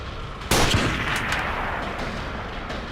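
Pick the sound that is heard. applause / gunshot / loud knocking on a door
gunshot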